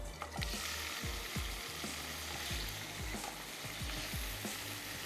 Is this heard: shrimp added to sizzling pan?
yes